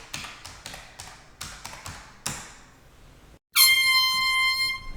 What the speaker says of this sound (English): What the hell's stuck in the freaking air horn, man?